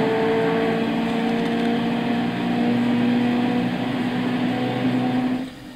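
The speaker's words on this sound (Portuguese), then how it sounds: "Deixa o ronco do Boxer para vocês." Turbocharged 2.0-litre 16-valve boxer engine of a 1998 Subaru Impreza WRX STi Version V in Gran Turismo 6, a steady droning roar with rising pitch held loud for about five seconds, then cutting off abruptly.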